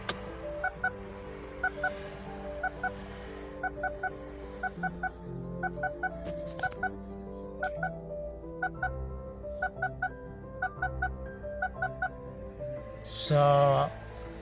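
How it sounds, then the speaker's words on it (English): Short electronic beeps from a 2014 Holden Captiva diesel's faulty parking sensors, unplugged, repeat in a steady pulsing pattern over a low engine-like rumble, with a brief louder burst of noise near the end. "Parking sensors unplugged, it will sounds like this."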